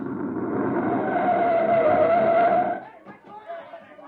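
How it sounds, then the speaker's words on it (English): Radio-drama effect of a recon car arriving: a loud, sustained engine roar with a tire-skid whine that cuts off sharply near the end, followed by short engine noise, with voices speaking. "There's a recon car coming up."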